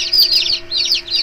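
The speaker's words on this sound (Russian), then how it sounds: "когда цыплята вылупляются, и тут уже вот некоторые вылупились" Newly hatched chicks, just moved into a brooder, peep in high, rapid chirps, close and fairly loud, with a faint steady hum underneath.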